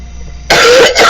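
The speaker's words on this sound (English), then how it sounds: "I have to cough." A single loud, harsh cough bursts out after a quiet pause, close to the microphone, with a brief break and then a second rasping push of air.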